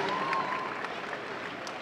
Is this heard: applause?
yes